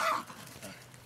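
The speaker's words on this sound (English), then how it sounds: "here comes the neighbor's dogs again" A neighbor's dog barks once, short and fairly near, at the start, followed by faint low noise and softer distant dog sounds.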